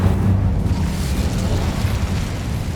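An Incendio fire spell blast from the video game Hogwarts Legacy, a loud roaring burst with a deep rumbling body that holds steady for a few seconds, with no voice over it.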